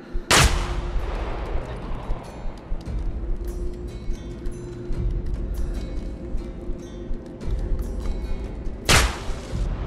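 Gunshots in the horror game Mundaun: a sharp, loud blast opens the stretch and another cracks near the end, with low rumbling and scattered thuds of combat in between and no talk over it.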